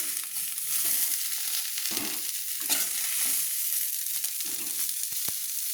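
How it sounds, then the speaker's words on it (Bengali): Oil sizzles steadily in a pan while a spoon scrapes and clinks, lifting pieces of fried cauliflower out. "তো ফুলকপিটাকে আমি একটা প্লেটে তুলে নিচ্ছি চামচ দিয়ে।"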